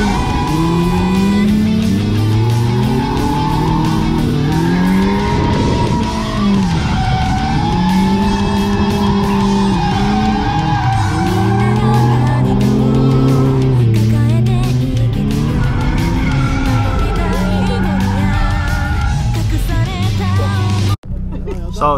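A drift car's engine roars loudly and continuously, sliding up and down in pitch as it revs, with tires squealing through the slides until the sound cuts off abruptly at the end.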